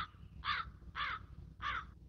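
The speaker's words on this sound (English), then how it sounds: "Crows" Three loud, harsh crow caws ring out in a steady rhythm, evenly spaced and close, with nothing else around them.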